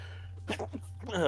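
A single sharp sneeze bursts out near the microphone, with a steady electrical hum underneath and a voice starting to speak right after.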